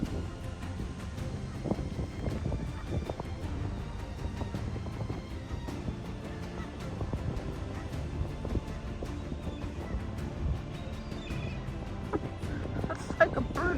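Many birds call at once in a constant busy chatter of short, overlapping squawks and clucks at moderate distance, on the Lake Michigan shore where the Pikes River flows into the lake.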